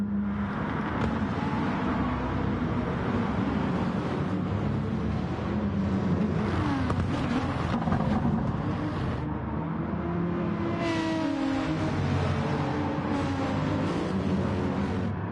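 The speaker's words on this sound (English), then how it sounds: "So the whole field of cars there making their way around there" Race cars in a Gran Turismo Gr.3 race at Sardegna circle the track, with a steady, continuous engine drone and rising and falling whines as the field passes throughout.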